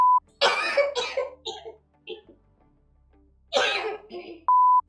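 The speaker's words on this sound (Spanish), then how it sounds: "Ay, quiero toser." A woman coughs in two close, sharp bursts with short pauses between, loud against an otherwise quiet room, with a brief electronic beep tone at the start and end.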